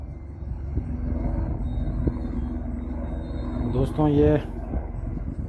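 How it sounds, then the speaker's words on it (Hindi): A helicopter flying from Badrinath or Kedarnath over the Uttarakhand hills gives a steady low, distant rumble throughout, with a voice briefly speaking over it near the end. "हेलीकॉप्टर भी बद्रीनाथ या केदारनाथ से आ रहा है"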